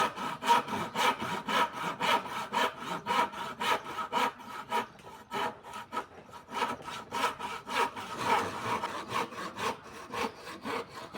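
A handsaw cuts through a wooden piece for a tripod head in steady back-and-forth strokes, about three per second. Each rasping pass sounds close and clear, with no voices.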